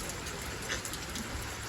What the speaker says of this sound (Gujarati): વરસાદ જોરદાર ચાલુ થઈ ગયો